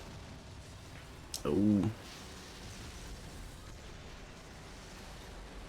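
A single muffled explosion from upgraded missiles in the arcade flying racer Skydrift Infinity, one short loud burst with a brief rumble over steady game background noise, followed by a quiet voice.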